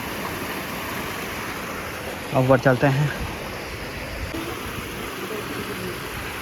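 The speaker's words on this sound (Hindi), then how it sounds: "ये देखो यहाँ झील की आवाज़ आ रही है" Water rushing steadily near Rishikesh, heard as a constant close wash of noise that lasts the whole time, with someone speaking briefly in the middle.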